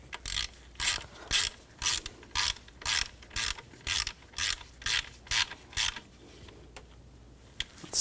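A ratchet tightens bolts on the engine of a 2004-2009 Audi A4 Quattro 2.0L four-cylinder, sounding as about a dozen evenly spaced, crisp clicking strokes close to the mic.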